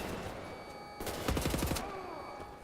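Gunfire rings out in Wolfenstein as a rapid burst of several sharp shots clustered in the middle, loud and close over a steady game background hum.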